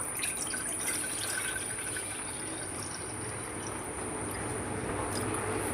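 Water running steadily into a kitchen vessel during home cooking, a continuous close, even splashing stream with faint dripping and no voices.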